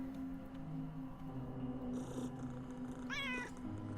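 A cat in the video game UnderRail gives a single clear meow near the end, heard over a quiet ambient game backdrop.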